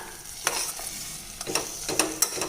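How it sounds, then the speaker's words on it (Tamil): Ground masala paste is stirred into mutton mince gravy frying over a medium flame, producing a low constant sizzle broken by several sharp scraping strokes of the spoon against the pan, close and fairly quiet. "இப்போ இதையும் சேர்த்துட்டு நல்லா பெரட்டி விட்டுக்கலாங்க"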